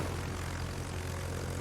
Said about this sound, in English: I've launched another squadron of aircraft equipped with rockets